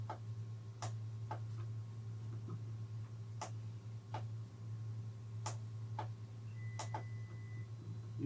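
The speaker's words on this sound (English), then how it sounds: "You'll hear the 3D printer going in the background." A 3D printer runs steadily behind a radio repair bench: a constant low hum with scattered sharp ticks and clicks from the moving mechanism, loud and continuous with no speech over it.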